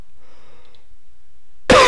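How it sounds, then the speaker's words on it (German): A person with a lingering illness lets out a single sharp, close cough at the very end, after near silence. "da kommt der Husten hoch."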